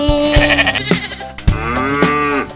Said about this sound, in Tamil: ஆடும் ஆடும் வீட்டிலே